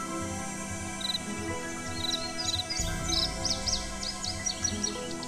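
Night birds in a Nancy Drew adventure game at Moon Lake call in short repeated chirps and trills over a steady ambient hum, growing busier toward the end.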